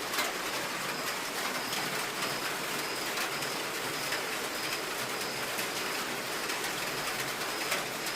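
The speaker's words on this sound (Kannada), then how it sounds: "ಸಿಕ್ಕಾಪಟ್ಟೆ ಮಳೆ ಬರ್ತಾ ಉಂಟು." Heavy rain pours down outdoors in a steady, dense hiss, loud and unbroken from start to finish with no voices.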